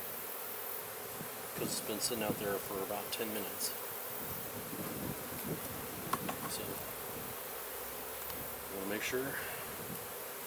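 Honey bees from beehive frames during a honey harvest hum in a constant close swarm, with someone talking over the steady buzzing.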